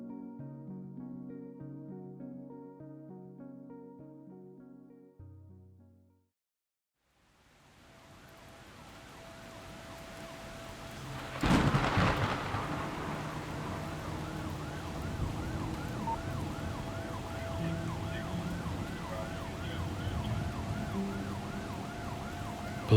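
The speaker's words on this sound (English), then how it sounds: "Police sirens pierced the night, casting a crimson glow on the urban scene." Wailing police sirens sweep repeatedly through a night city scene in an audio drama, rising in loudness partway through over a steady traffic rumble after a brief musical passage and a moment of silence.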